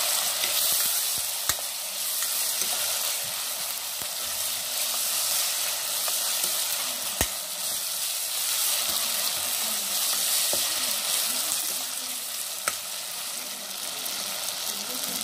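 Ginger garlic paste fries in a pan while mutton kurma is being made, giving a loud, continuous, close hiss and sizzle with occasional sharp clicks of stirring and a faint voice now and then underneath.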